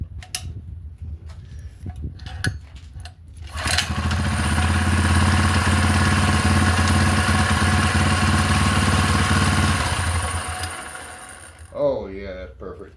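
A four-stroke engine, newly fitted with its throttle cable being sorted out, catches and settles into a steady, fairly loud idle for about six seconds before being shut off, with brief clanks and voices around it.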